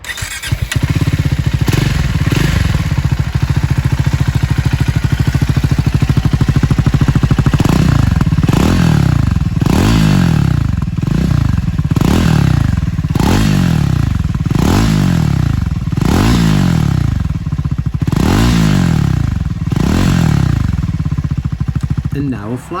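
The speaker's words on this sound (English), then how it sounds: "let's have a little sound check. So static sound check first" A Triumph Scrambler 400X motorcycle revved while standing still, idling at first and then giving a long run of loud, repeated throttle blips that rise and fall close by.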